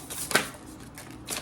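Tarot cards shuffled by hand in short riffling bursts, close and crisp, with a brief pause between bursts.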